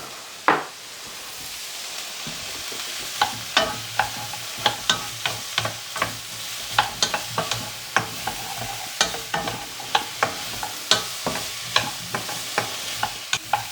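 Mushrooms sizzle steadily in a hot pan while a utensil scrapes and stirs them in quick, irregular strokes, with the frying hiss running underneath each close, distinct knock.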